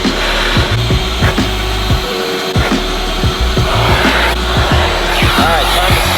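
A Ridgid or Craftsman shop vac fitted with a crevice tool roars loudly and steadily as it sucks up debris, with rapid rattling clicks and thumps of bits rushing up the hose.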